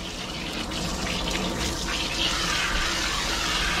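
Water from a bathing system nozzle rinsing a dog, a steady close spraying gush with a splashing hiss throughout.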